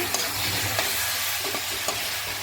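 Small tomato pieces fry in a pan for a raw jackfruit curry, giving a loud, steady sizzle broken by a few light stirring clicks, heard close up with no talking.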